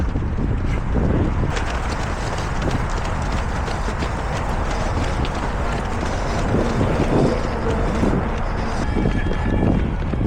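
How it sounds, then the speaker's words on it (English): Steady wind buffets the microphone during the JTBC marathon run in Seoul, a constant loud roar with low rumbling gusts throughout, no talking. "It's windy, but the cold is manageable"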